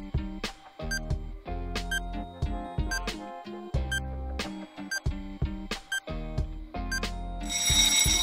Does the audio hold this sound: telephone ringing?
yes